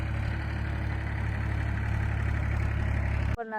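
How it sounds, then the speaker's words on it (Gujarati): A tractor levelling a farm field runs with a steady, loud low engine drone and constant idling-like rumble, close by and uninterrupted until it cuts off abruptly near the end. "રેવલ કરતું આવે ટ્રેક્ટર"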